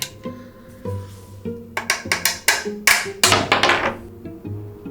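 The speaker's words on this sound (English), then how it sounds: "Unfortunately, the nut seems fairly unscathed." Macadamia nut being struck in an attempt to crack it, a run of sharp, hard knocks that speed up into a rapid burst of blows before easing off, close and loud over a faint background hum.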